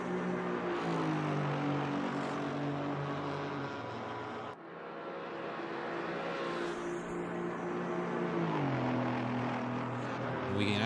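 A Maserati race car engine drones in the video game Assetto Corsa Competizione during a four-hour race at Imola, a steady tone rising and falling with gear changes, heard alongside other engine noise without speech.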